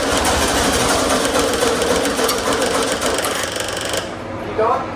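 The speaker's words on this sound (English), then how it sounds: "Go ahead and crank it." A 1972 VW Super Beetle engine cranking over with its starter, a steady loud chugging churn running for about four seconds before cutting off, with a brief voice after it stops.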